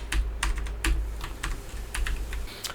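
Computer keyboard keys are pressed in quick irregular clicks, close and fairly light, with no talking.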